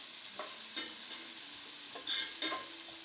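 Ingredients for a fish curry sauté in a pan, a soft steady sizzle broken by a few scraping stirs of the spatula, fairly quiet and close with no voices.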